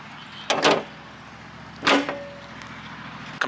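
A Seibon carbon fiber hood on a 9th-gen Honda Civic Si shuts and latches, giving two sharp, close metallic slams with a brief ringing ding, then a faint click at the end.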